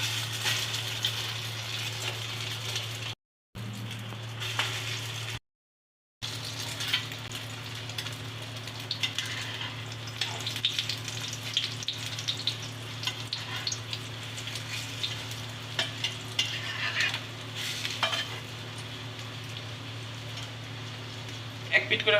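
Slices of bread coated in beaten egg sizzle in hot oil for a spicy toast snack, a steady soft crackle and hiss running throughout with brief dropouts.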